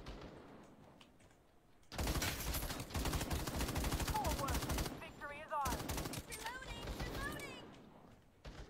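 M4A1 rifle fire in a multiplayer video game, loud sustained automatic bursts with a brief break in the middle, clearly heard above quieter game sounds.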